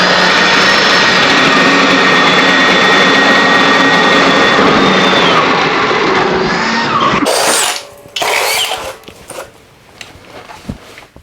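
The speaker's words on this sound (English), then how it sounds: "we got a 1 inch spade bit. We're going to be making a hole right here." A Milwaukee M18 Fuel Gen 4 2904 cordless hammer drill bores a hole with a 1-inch spade bit, whining loudly and steadily close by for about seven seconds before winding down into scattered clatter.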